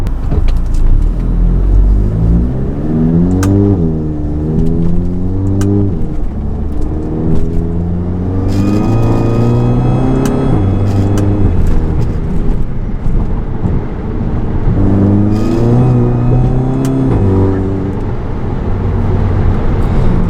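A VW Mk7 GTI fitted with a GFB DV+ diverter valve pulls hard through the gears in repeated test runs, engine note rising and dropping with each shift, loud and close from inside the car.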